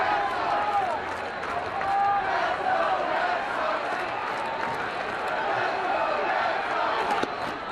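Baseball crowd at Fenway Park during a Toronto at Boston game, a thin, distant cheer and clapping rising as a rally attempt, heard under a commentator's steady talk.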